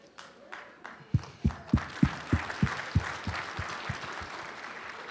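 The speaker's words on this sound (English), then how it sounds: "I'm clapping for Muhsin." A single person claps hands at a steady rhythm, about a dozen sharp, fairly close claps that start after a second of quiet and slowly soften toward the end.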